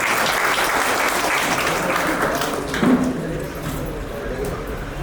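Applause from an audience at a film poster launch event welcoming Pradeep to the stage, a steady dense clatter of clapping that holds throughout with some crowd murmur.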